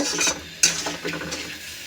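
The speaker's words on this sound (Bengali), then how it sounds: "জিরার গুঁড়া ধনে গুঁড়া দিয়ে দিলাম ভালো করে কষিয়ে নেব" Cumin and coriander powder sautéing in a pan for a snakehead fish curry with bottle gourd and potato, with a soft sizzle and a few scraping stirs of a spoon against the metal, close and brief, with no speech.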